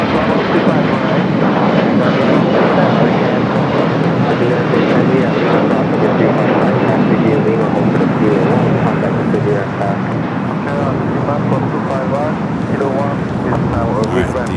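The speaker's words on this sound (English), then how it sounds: "Alright, the Dreamliner now allowed to cross over 25 right" A Boeing 787 Dreamliner taxis across runway 25 right at Los Angeles International Airport, its jet engines giving a loud, steady, continuous roar for the whole stretch, with voices talking over it.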